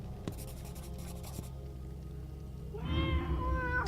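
A cat meows once near the end in the video game Tormentum: Dark Sorrow, a clear close cry after a stretch of scratchy scribbling sounds.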